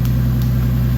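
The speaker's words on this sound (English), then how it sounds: "The car is back to sounding like a real car." A Toyota 2JZ turbo engine, running on corn fuel in a drift car being prepared for a Formula D event, hums with a steady, deep, close-up tone and an even drone throughout.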